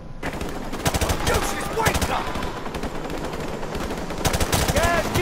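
Rapid automatic gunfire in Call of Duty: Modern Warfare Remastered's final campaign mission, dense repeated bursts with loud shot clusters throughout, backed by game effects and a faint voice.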